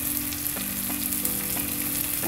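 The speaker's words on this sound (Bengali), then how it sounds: "ওয়ান অ্যান্ড হাফ কাপের মতো আমি পেঁয়াজের বেরেস্তাটা করব।" Onions frying steadily for kacchi biryani beresta, a dense, continuous sizzle up close with occasional stirring, no one speaking.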